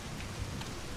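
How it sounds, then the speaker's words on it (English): Steady, even rain patters in the video game My Summer Car, a dense continuous hiss with no talk during the brief moment. "It's raining"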